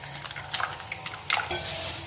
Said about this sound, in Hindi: ये थोड़ा सा मेरा बच गया था मसाला, ये मैं इसमें मिक्स कर लेती हूँ